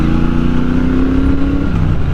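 The exhaust of a Triumph Bobber Chrome Edition motorcycle gives a loud, steady, deep thrum that is sustained and close for the whole stretch, with no talk over it.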